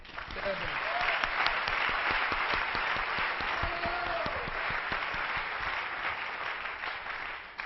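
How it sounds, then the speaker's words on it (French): A church congregation applauding during a sermon, steady broad clapping from a large group that rises quickly and holds at an even level, with faint voices calling out beneath it. "Acclamez le Seigneur"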